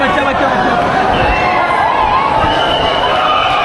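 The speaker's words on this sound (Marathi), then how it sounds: "इथे खूपच गर्दी" A dense crowd of devotees at Lalbaugcha Raja darshan in 2024 fills the space with loud, continuous overlapping chatter and shouts, a steady roar of many voices close around.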